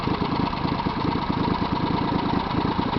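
A Mud Buddy HD 6000 mud motor runs at a steady, close, throbbing idle with a rough, even putter and no break in the sound.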